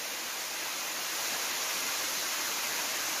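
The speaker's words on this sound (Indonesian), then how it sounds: "air terjun mungil, tapi cantik ya, eksotis, keren-keren" A small jungle waterfall pours in a dense, steady hiss of falling water, continuous and even throughout with no breaks, heard alone without any voices.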